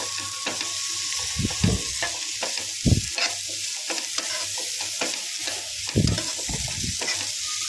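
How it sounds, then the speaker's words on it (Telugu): Chopped bitter gourd pieces are stirred and tossed in a frying pan for a bitter gourd fry, with a steady sizzle beneath repeated scraping strokes that come in uneven bursts, close and moderately loud, with no talking. "ప్యాన్లో వేసేసి మొత్తం అంతా కూడా మళ్ళీ ఒకసారి కింద పైన మొత్తం అంతా కూడా కలుపుకోవాలి."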